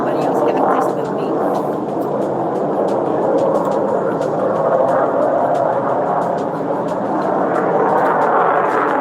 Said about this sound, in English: y'all hear that plane, right?